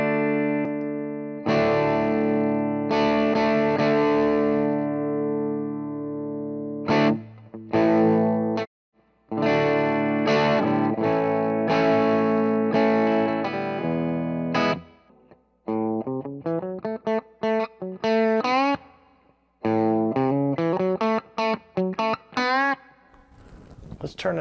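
Distorted electric guitar through a Vangoa distortion pedal playing sustained chords, then choppy stabs and quick riffs, with short pauses between phrases; loud and close, gritty saturated tone.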